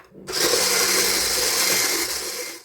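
An electric mixer whips cake batter of vegetable oil and sugar, a loud, steady whirring drone that starts abruptly and runs evenly for a couple of seconds before easing off, with no voices.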